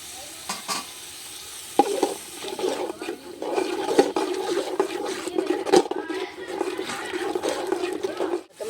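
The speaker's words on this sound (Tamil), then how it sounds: "சின்ன வெங்காயம் தக்காளி எல்லாமே பச்சையாக ஆட்டி தான் நம்ம வணக்க போகிறோம்." Ground shallot and tomato paste sizzle and fry in oil for a fish curry over an outdoor wood fire, with steady scraping stirs and crackling spatters running throughout.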